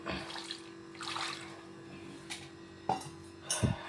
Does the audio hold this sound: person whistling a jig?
no